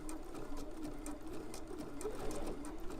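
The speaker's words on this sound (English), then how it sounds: "you can lift your foot up, your sewing machine foot up, and you're gonna go over this bit sideways here." A sewing machine stitches fabric during a quilt batting project, running in a fast, steady mechanical rhythm at close range for the whole stretch with no voice over it.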